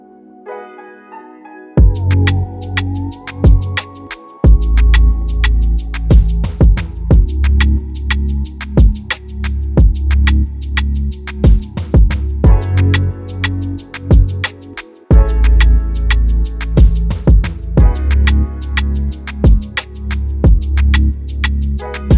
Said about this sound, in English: The full beat sounds like this.